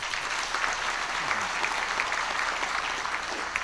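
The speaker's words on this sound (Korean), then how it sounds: "박수 한번 쳐주십시오." Sustained, dense applause from a large audience fills a hall at a Korean labor union federation's annual delegates' convention, steady and loud throughout with no individual voices standing out.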